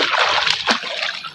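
Running water splashes and sloshes noisily into a jar in a village setting, a brief close burst of spattering with no talk.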